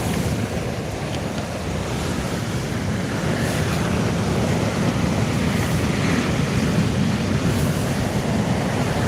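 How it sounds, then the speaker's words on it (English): Strong sea wind buffets the microphone on a kayak fishing trip at sea, a loud, continuous low rumble over waves that holds steady throughout with no talking. "the wind's puffing straight in my face"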